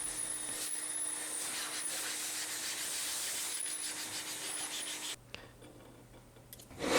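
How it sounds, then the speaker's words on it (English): Steady abrasive rubbing of a diamond sharpening stone against a metal jointer table extension plate, a continuous scraping hiss that stops abruptly, leaving quiet with a faint click. "used a diamond sharpening stone for smoothing"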